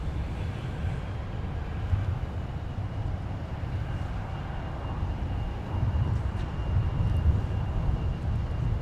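A Delta airliner, flight 152, departs MSP airport through a turn, heard as a steady distant jet roar with broadband rumble that swells slightly toward the end, no talk.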